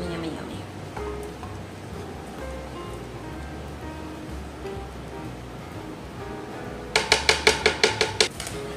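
A spatula scrapes lemon icebox cake batter out of a mixing bowl: a quiet stretch, then about eight quick, rhythmic scraping strokes close by near the end.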